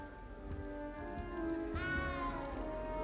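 A cat meows in the Hogwarts Legacy video game, a single drawn-out meow that rises and then falls. It is faint and close, over quiet game ambience and background music.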